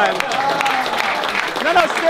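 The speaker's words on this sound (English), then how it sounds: "Give him a big round of applause one time" Crowd applause with whistles and cheering at a magic performance for the LA Dodgers, a steady dense wash of clapping lasting about two seconds, with a rising whistle near the end.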